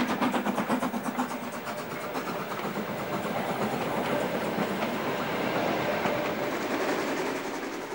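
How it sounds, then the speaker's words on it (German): The Brockenbahn narrow-gauge railway runs through the Harz mountains, a loud, steady rolling rumble of a train with faint rhythmic wheel clatter, close and continuous. "Seit genau 15 Jahren fährt die Brockenbahn nun wieder nach einem festen Fahrplan."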